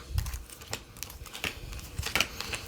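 Crisp flicks and soft slaps of tarot cards being shuffled by hand, a quick irregular patter up close in a quiet room.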